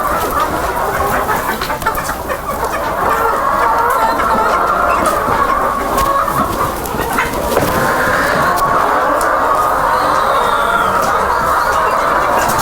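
Chickens cluck and squawk continuously inside a coop on a cold winter day, a dense, loud flock chorus filling the whole stretch with overlapping calls.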